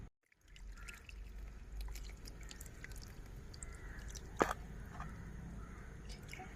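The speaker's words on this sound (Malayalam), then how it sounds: "ഇതൊന്ന് വെള്ളം നനച്ചു കൊടുത്താണ് ഇത് മണ്ണൊന്ന് ശരിയാവാൻ വേണ്ടിയിട്ട്" Water poured gently onto garden soil covering a lotus tuber: a soft, steady trickle that runs throughout at low level, with one brief sharper splash near the end.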